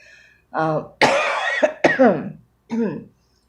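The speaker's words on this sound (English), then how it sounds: "Cough I have not gotten rid of yet" A few rough coughs and throat-clearing bursts from a nearby voice, spaced across a few seconds with short silences between.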